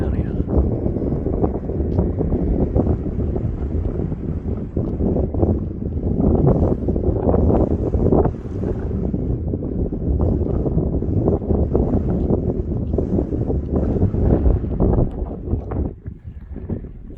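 Cold night wind sweeps across a barren, grassless desert near an Icelandic volcano site, a loud, continuous roar buffeting the microphone that eases slightly near the end.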